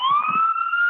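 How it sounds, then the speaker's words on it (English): A police car siren wails loudly outdoors as it passes, a steady rising tone heard alone with no talking. "It's a police car buzzing by."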